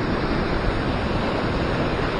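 Ocean swell rolling in at a seaside fishing spot near Sydney, heard as a steady, dense wash of surf noise with wind, continuous and fairly loud throughout, with no voices.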